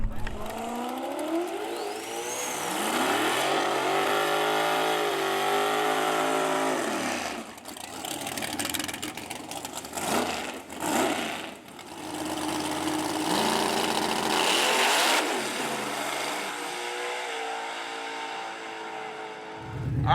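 A nitrous-fed Camaro race car at The Reunion 2024 makes a race run: loud, close engine roar with rising revs and harmonic sweeps, a brief dip around the middle, then sustained power to the end, with no talk.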